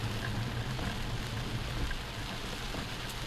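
Heavy rain pouring across Jamaica, a dense, steady hiss of downpour on surfaces with no pauses, moderately loud and even throughout.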